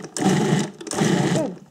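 A food processor pulses flour into Greek finikia cookie dough in two loud motorised bursts, each under a second long, with a short pause between them and no talk.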